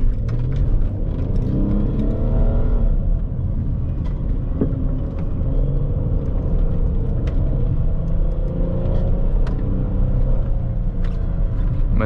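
A Hyundai Azera V6 sedan drives a winding mountain road in a manual gear, its engine giving a steady low rumble with road and wind noise, continuous and close from inside the car.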